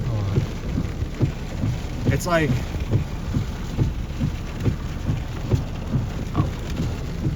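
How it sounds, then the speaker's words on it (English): Heavy rain pours steadily during a tornado outbreak storm in Northern Missouri, dense and close, with a brief rumble of thunder and a short spoken remark. "Those rain curtains are kind of zooming."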